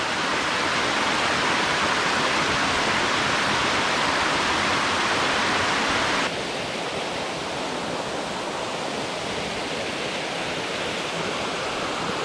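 Steady roaring rush of a waterfall on a mountain stream, loud and continuous, shifting slightly in tone midway with no voices.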